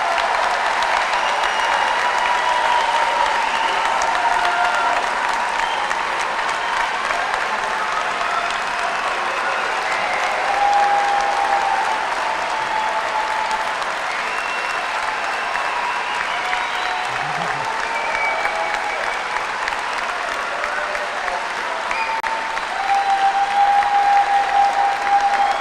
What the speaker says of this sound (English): that's the most thunderous applause we've heard the whole day